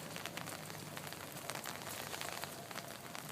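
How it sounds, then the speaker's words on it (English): Steady patter of rain falling in Shippensburg on a cold, dreary 42-degree day, with dense irregular drop impacts on surfaces, moderately faint and continuous with no voices. "Rain continues on this dreary, cold day, 42 degrees."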